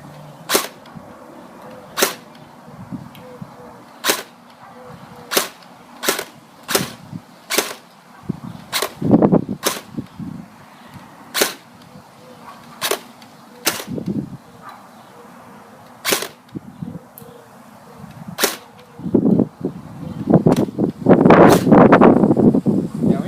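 Airsoft gun fired through an FN aluminum inner barrel with hop-up set around 75%, giving a long series of sharp, evenly spaced snapping shots, close and crisp, with rustling and handling noise building near the end.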